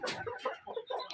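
Chickens clucking in a coop, a quick run of short, close clucks and squawks in a brief burst.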